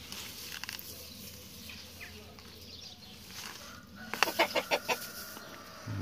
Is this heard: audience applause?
no